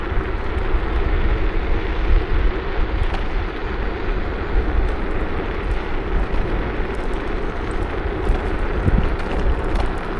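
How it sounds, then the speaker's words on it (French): Steady wind rushing over the microphone during a countryside ride on an Ausom L2 Dual Motor electric scooter, a continuous loud low buffeting with no talk. "On a quand même un petit vent mais ça va encore."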